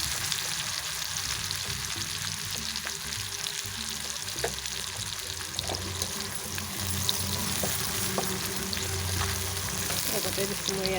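Chopped onions fry in a pan with a steady, dense sizzle, joined by occasional stirring scrapes, for a soyabean kofta curry; the hiss runs continuously and fairly loud with no voices.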